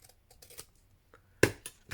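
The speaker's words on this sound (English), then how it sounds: "So I'll trim this. These scissors are all sticky and horrible now, but never mind." Slightly sticky scissors trimming a paper journal card, heard as a few faint close snips and then two sharper, louder cuts near the end, with no talking.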